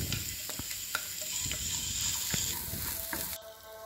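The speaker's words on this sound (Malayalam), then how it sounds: "പച്ചമണം മാറുന്നത് വരെ നന്നായിട്ടൊന്ന് ഇളക്കി കൊടുക്കാം." Drumstick thoran with chili powder is stirred and fried in a pan, giving a steady close sizzle broken by repeated scraping and clinking strokes of the spoon until a brief drop near the end.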